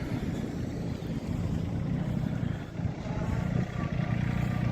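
A Solis 26 mini tractor's 24-horsepower, three-cylinder, four-wheel-drive engine chugs steadily up close, a low rumbling idle with slight fluctuations, no voices.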